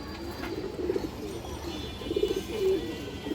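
A pigeon coos softly in short repeated phrases, fairly close, over a faint steady background hum.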